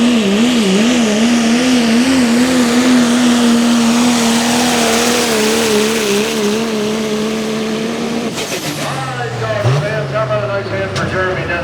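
A pulling truck's engine roars loud and close at a truck and tractor pull in Boonsboro, holding a steady wavering drone before a sudden drop and sharp revving surges near the end.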